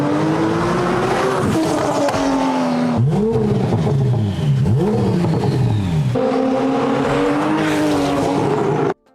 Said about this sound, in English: The turbos are not choking out the engine sound.